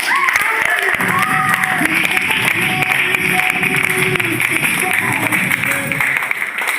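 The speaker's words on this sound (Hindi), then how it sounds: "एक बार फिर से जोरदार तालियां।" Continuous loud applause from a large crowd at a Modicare recognition event in Varanasi, with cheering and voices mixed into the dense clapping throughout.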